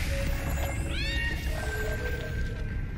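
A cat meows once, a short rising wail, in the video game Iris.Fall, heard over a steady game music and ambient backdrop with no talking.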